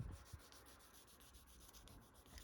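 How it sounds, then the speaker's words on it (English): A plastic Gunpla model part is rubbed flat on 1000-grit sandpaper, giving a soft, steady scratchy rasp of quick repeated back-and-forth strokes, close and faint. "to sand the flat surface, we try to make them as flat as possible"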